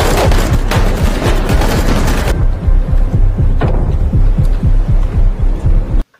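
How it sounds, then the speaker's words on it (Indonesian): A battle scene from a film with dense, loud bursts of rapid gunfire and booming shots that stop abruptly after a couple of seconds. Sparser shots and a heavy rumble continue before everything cuts off. "Sempat terjadi baku tembak di sana."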